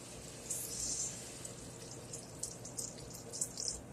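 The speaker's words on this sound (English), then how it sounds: "I'm going to pour it in there a little at a time." Chicken broth trickles and splashes into a pot in short bursts, faint and close, with a soft sizzle underneath.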